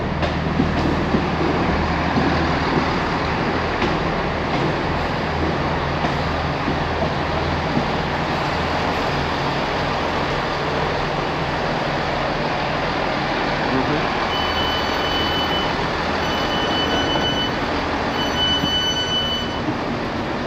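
A passenger train runs steadily in Devon near Exeter St David's station, with a constant loud rumble and rattle, faint squeals of wheels appearing near the end.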